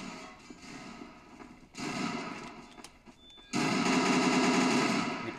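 A turret fires in a video game combat scene: sharp rapid bursts of automatic gunfire come in stretches separated by quieter pauses, with the final burst loudest and sustained.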